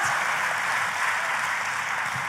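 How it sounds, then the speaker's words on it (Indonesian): A large audience applauds steadily in a big hall, a dense, even wash of clapping held at moderate level throughout with no voices over it. "Kalau mau tepuk tangan, boleh tepuk tangannya yang lebih dahsyat."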